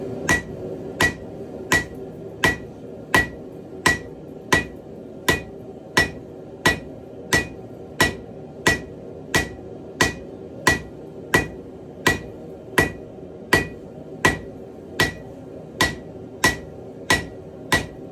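Hammer blows forging a meat cleaver blade ring out in a steady, evenly spaced rhythm of sharp metallic strikes, about two per second, close and alone throughout.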